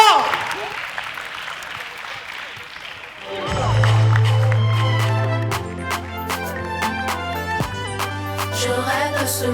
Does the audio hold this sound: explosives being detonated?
no